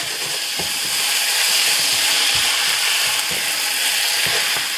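Onions sweating in a frying pan give a loud, continuous close-up sizzle and hiss, with occasional soft stirring knocks.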